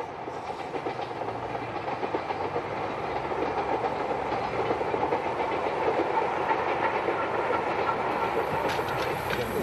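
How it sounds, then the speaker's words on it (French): The C57-1 steam locomotive train running on rails, a steady rumbling roll with rhythmic clickety-clack of wheels over track joints, building slightly in loudness over several seconds. "le train atteint aujourd'hui encore sa vitesse maximum de 110 km/h"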